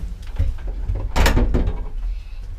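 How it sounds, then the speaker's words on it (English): Elevator doors in a Milan apartment building slide shut by hand, with a sharp metallic clunk in the middle and rattling mechanism noises before and after, close and fairly loud. "Then close these doors."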